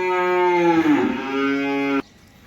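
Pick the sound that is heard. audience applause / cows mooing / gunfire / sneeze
cows mooing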